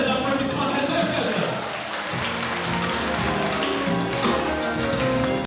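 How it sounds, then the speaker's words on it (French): A packed audience, mostly women, fills a hall in Abidjan with sustained, dense applause, a continuous crackling roar of many hands that holds steady and cuts off abruptly at the end. "je vais entendre des applaudissements"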